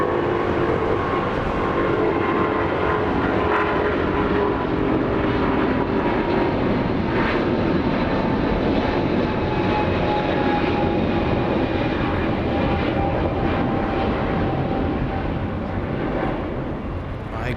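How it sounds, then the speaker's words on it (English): A Boeing 777 with Pratt & Whitney engines at Los Angeles International Airport roars steadily and loudly throughout, a broad continuous jet rumble with a faint engine whine held across the whole stretch and no talk. "We have 777 powered by the Pratt & Whitney engines."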